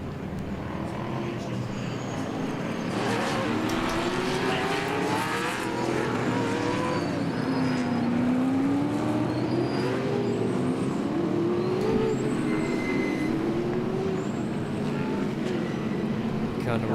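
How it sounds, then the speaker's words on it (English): Formula Ford single-seater race cars on a circuit in a ten-lap race, engines droning and rising and falling in pitch as they pass at middle distance, with a commentator talking over the steady noise throughout. "Up next we've got race 1 for the Formula Fords."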